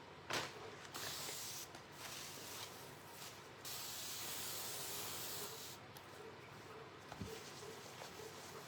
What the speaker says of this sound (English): I got a spray bottle. It's got water in it.